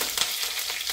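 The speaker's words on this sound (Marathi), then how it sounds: "थोडासा कढीपत्ता टाकते," Curry leaves and cut green chillies sizzle in hot oil for a tempering, a steady close crackling hiss that runs throughout with a faint stir.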